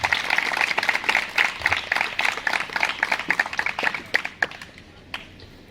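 Applause from an audience at a Feast of St. Francis of Assisi church gathering welcoming a priest, scattered claps that thin out and fade to a few last claps, without talk.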